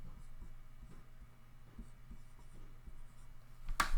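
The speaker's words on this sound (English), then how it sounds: "I'm going to draw on the staff the notes of the C scale." Pen or pencil writing notes of a C scale on a music staff, quiet scratching strokes at close range with soft pauses, ending in a brief louder knock.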